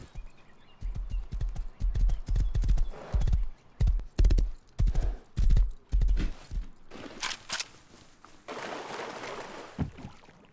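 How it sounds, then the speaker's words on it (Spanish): Horse hooves clip-clop in steady rhythmic beats in the video game Rust, loud and close, followed by a brief burst of other game noise near the end. "Voy a llevar el caballo. Vamos a llegar rapidito."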